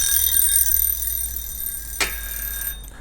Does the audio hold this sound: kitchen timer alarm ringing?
yes